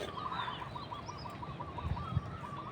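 Birds call across the countryside on a cold, misty morning among rice fields, a faint run of repeated chirping notes with a couple of soft low thumps underneath and no voices.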